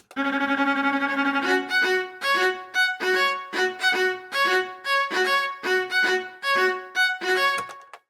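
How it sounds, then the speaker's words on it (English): A bowed viola plays a sustained note, then a rhythmic run of short repeated notes in a steady pattern, clear and close with no voices. "Now this is viola."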